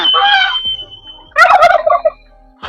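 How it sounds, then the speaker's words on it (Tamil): A turkey at a zoo gobbles loudly twice in quick rattling bursts, each following a sharp whistled note, close by with quiet gaps between. "வான்கோழி ஸ்பெஷல் விசில் அடிச்சா கத்துவானே"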